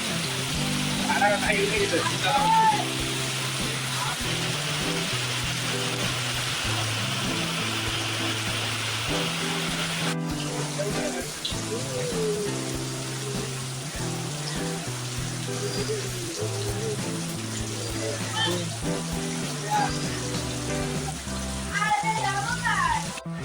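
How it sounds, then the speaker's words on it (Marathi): Steady rain patters on a shed roof throughout, a constant hiss beneath someone talking and low background sounds, on a lake fishing trip in Hashivare. "पाऊस आहे त्याच्यामुळे मी शेड मध्ये थांबलोय"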